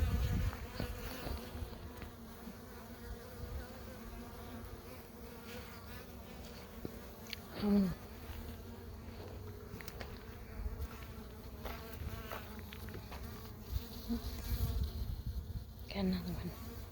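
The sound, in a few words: honey bees buzzing around hive frames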